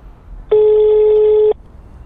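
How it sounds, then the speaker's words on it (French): A single steady ring tone sounds for about a second over a phone's speakerphone as a call is placed, loud and clear against a quiet background. "J'appelle Jérémy"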